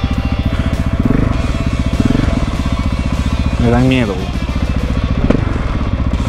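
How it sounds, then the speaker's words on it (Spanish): A 2010 KTM 690 motorcycle rides along with a steady, throbbing single-cylinder engine note running loud and close throughout, while a rider speaks briefly over it and an animal-like call rises partway through. "esta moto es una KTM 690 2010"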